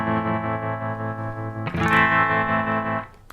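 An electric guitar played through a Boss TR-2 tremolo pedal, with the wave control at its choppiest setting, sustains one chord and then strikes a brighter chord, pulsing in volume before it stops.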